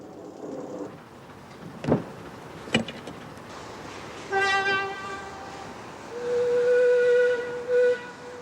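A 1937 Andrew Barclay 0-4-0 saddle tank steam locomotive shunts at a preserved Scottish railway, with a couple of sharp clanks followed by shrill, sustained whistle blasts heard at moderate distance.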